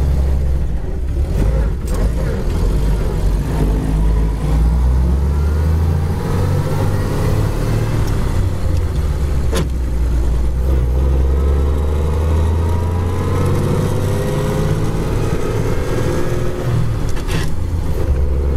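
A 1929 Chevrolet engine drones steadily while the car drives along a road, a loud, continuous low rumble with slowly rising and falling pitch as it accelerates, with no talking.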